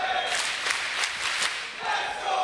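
Loud esports arena crowd at a Rainbow Six Siege Six Major playoff match in Berlin, on the Border map, roaring and cheering in steady swelling waves, with a brief dip before surging again.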